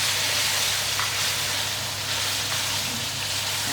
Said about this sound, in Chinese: 这样炒一下